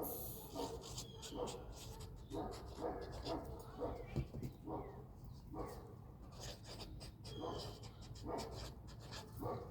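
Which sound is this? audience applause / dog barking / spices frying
dog barking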